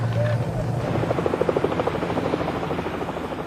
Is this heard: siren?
no